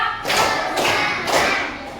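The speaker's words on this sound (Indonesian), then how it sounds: "tepuk 3," Schoolchildren clap together in a counted rhythm, three crisp group claps evenly spaced, close and fairly loud.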